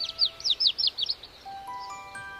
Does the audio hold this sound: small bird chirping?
yes